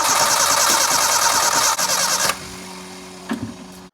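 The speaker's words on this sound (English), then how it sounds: "we're going to try to start our car without a 15 amp but with a relay in there" Car engine cranking with the 15 amp fuse pulled and a relay fitted, a loud continuous churning starter whir that cuts off abruptly, followed by a lower hum and a brief clunk.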